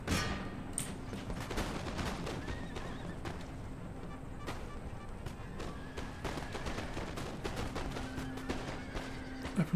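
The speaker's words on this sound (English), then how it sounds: "Shooting to the back of my own men." Musket volleys from an Empire Total War battle crackle in repeated bursts through a busy wash of combat noise, with horses whinnying and hooves clattering among them.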